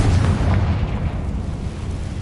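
The Confringo blasting curse goes off in Hogwarts Legacy, a loud booming explosion that rolls out and slowly fades over about two seconds, with no talking.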